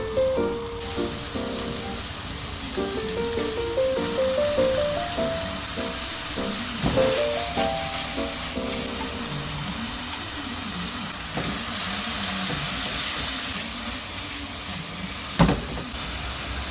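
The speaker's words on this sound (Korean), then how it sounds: "센불로 높여준 다음 고기를 먼저 볶습니다." Meat stir-frying in a pan over high heat for a Korean home-cooked dish, a steady bright sizzle and hiss running throughout with soft background music and occasional clinks of utensils.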